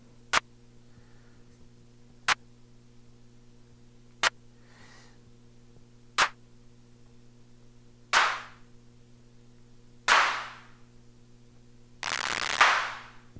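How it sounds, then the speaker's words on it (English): Clap sounds from an Elektron Analog Rytm MKII drum machine, seven sharp hits spaced evenly about two seconds apart, each getting longer and more washed out until the last becomes a sustained noisy burst. "Clap sounds like a clap."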